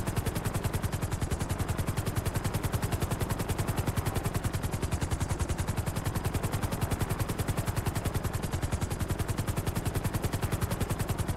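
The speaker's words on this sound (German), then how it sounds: "Dann haben wir einen Hubschrauber." A helicopter in the video game GTA V gives off a steady, rapid rotor chop, an even machine-like pulsing that runs unbroken and fairly faint for the whole stretch, with no talk over it.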